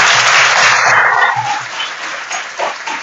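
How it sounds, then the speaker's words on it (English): Warm audience applause at a talk on banking and the economy in Norway, a dense broadband clatter of clapping that is loud at first and gradually thins out, with a few dog-like yelps or voices poking through. "give me a warm applause."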